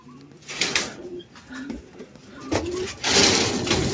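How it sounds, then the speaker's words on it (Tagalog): A pet pigeon, a blue bar, coos softly in a loft, with several low rolling coos mixed with rustling and shuffling, while someone talks nearby. "Andun yung kalapate nating isa, oh."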